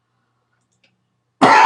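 After a second of silence, a single loud, close cough bursts out abruptly at the end.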